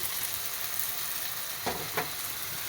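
Chili, coriander, turmeric and chicken masala powders fry in hot oil for a biryani, a steady close sizzle with two brief scraping stirs of the spoon near the end.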